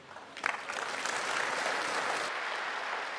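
An audience at the investiture ceremony of a university's fifth vice-chancellor breaks into applause, rising quickly into a steady, fairly faint wash of clapping heard from a distance for a few seconds.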